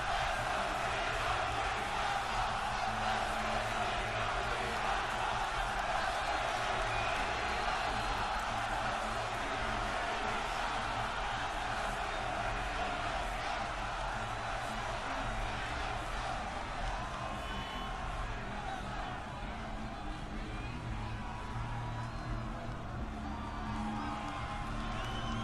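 A wrestling arena crowd before WrestleMania roars with mixed cheers and chanting, a dense, continuous wall of voices and shouts filling the hall at an even level throughout.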